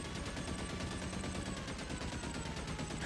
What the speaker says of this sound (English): Why is the machine gun noises just happening?